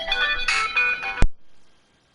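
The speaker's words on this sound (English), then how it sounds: "Oh, hold on, my phone's ringing." A phone ringtone plays a short melodic tone, then cuts off abruptly with a click and brief fade into silence.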